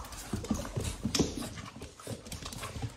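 Dogs and puppies at a rural property in Nevada City, California, pant, snuffle and move about close by in irregular bursts, with scattered thumps and shuffling steps and no talking.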